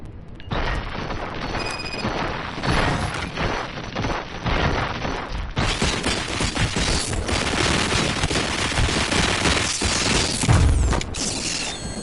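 Sustained gunfire in the video game Robocop Rogue City: loud, rapid bursts of automatic shots and mechanical clatter, with a deep boom near the end.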